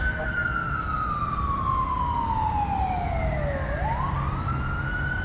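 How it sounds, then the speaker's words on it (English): An ambulance siren wails steadily and loudly on a Los Angeles street, its tone sliding slowly downward before sweeping back up, over a constant rumble of traffic. "ambulance."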